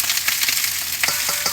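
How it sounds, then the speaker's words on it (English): Peppers sizzle loudly in two pans for a chicken verde dish, a close, continuous frying crackle with a few stirring scrapes, no voices. "I got 2 different pans with peppers."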